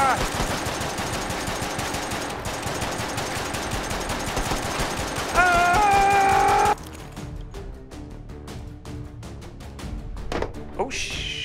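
An automatic gun in the VR game H3VR fires long rapid bursts, loud and close, cutting off partway and followed by scattered single shots and clatter.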